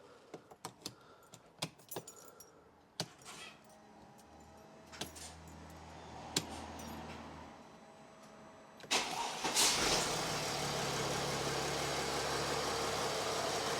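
A Mercedes OM642 3.0-litre V6 diesel in an ML350 is started after clicks and key jangles, then settles into a steady, fairly loud clattering idle that runs to the end.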